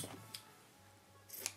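Scissors snip through paper for a star-shaped scrapbook album, giving a couple of quick, crisp cuts close by with a brief pause between them in a quiet room.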